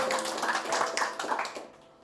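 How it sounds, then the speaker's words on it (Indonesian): A church congregation applauds together, a dense wash of many hands clapping fairly close, steady and broad for about two seconds before thinning and fading out at the end. "Berikan tepuk tangan buat Juru Selamat kita"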